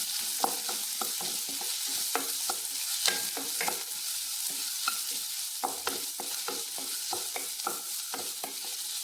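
Tomato rice with green chili is stirred in a pan, a steady soft sizzle with repeated scraping strokes of the spoon, close and alone.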